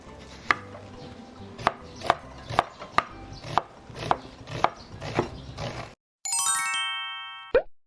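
A knife chops through an onion on a cutting board in about a dozen sharp, evenly spaced knocks, close and crisp, followed by a bright synthetic chime effect at the end.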